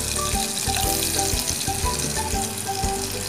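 Garlic, two pounded cloves, sizzling in a pan of butter and oil, a steady close frying crackle with soft clinks and stirring knocks scattered throughout, no voices.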